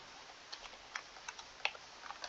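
Light typing on a computer keyboard, a handful of soft, scattered keystrokes tapped in uneven rhythm, faint and close in a quiet room.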